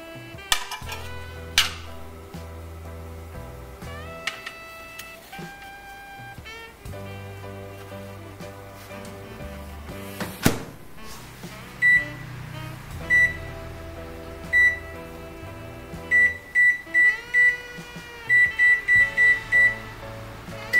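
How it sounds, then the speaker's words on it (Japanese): A home oven beeps as oven-bake pottery clay pieces go in, with rattling clatter, a door thud, then a rising run of short electronic beeps repeating in quick clusters near the end. "じゃあ今からね、オーブンに入れていきたいと思います。"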